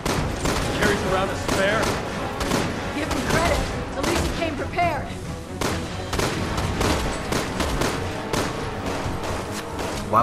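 Dense, continuous gunfire and bursts from Resident Evil 6 gameplay in the marketplace, loud rapid shots overlapping with game effects, with voices talking over the action.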